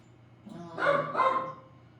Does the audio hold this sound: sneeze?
no